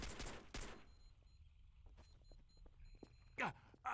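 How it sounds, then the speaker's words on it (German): Bursts of rapid gunfire crack loudly at the start in the video game Trouble in Terrorist Town, followed by scattered shots and a sweeping electronic sound, with a voice briefly under it. "Du knallst mich einfach ab, Nephi."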